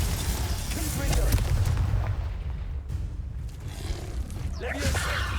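In the video game Hogwarts Legacy, the Confringo fire spell blasts out as deep, booming impacts with whooshing bursts, loud and close amid ongoing battle noise.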